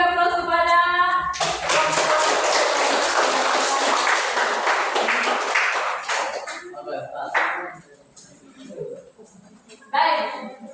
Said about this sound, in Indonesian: Ya, kita beri aplaus kepada kelompok 2 yang sudah mempresentasikan hasilnya